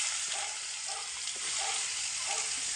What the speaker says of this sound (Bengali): এই যে এখন করলা আলু ভাজাটা বসিয়ে দেবো।